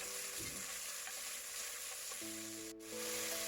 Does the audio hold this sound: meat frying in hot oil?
yes